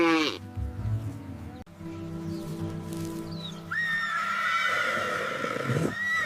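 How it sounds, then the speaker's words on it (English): A small white horse neighing loudly and close, a shrill whinny that wavers and falls away, followed by a second high whinny rising then trailing off. "Tiny white savanna wild horse."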